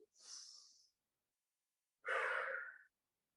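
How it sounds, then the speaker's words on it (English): Two separate breaths during a cool-down in a Parkinson's exercise class: a soft inhale first, then after a pause a louder, fuller exhale blown out through the mouth, close and alone. "let's work on taking a nice big deep belly breath in"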